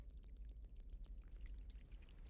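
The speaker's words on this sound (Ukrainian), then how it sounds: "Беру бензин і йду заливати заливаю" Gasoline pouring in the video game Ice Cream 1, a short, faint, steady liquid trickle with no talk.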